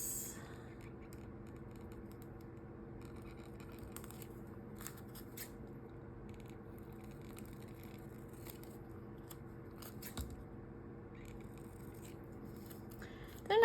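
Scissors trimming label stamps thinner, giving a series of small, crisp snips spaced irregularly, close and quiet over a faint steady room hum.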